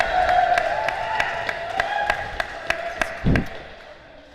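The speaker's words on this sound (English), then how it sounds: "The reason the crowd is reacting the way they are" A crowd at a match reacts with sparse, sharp claps spaced at an even rhythm over a low murmur, with one louder burst near the end.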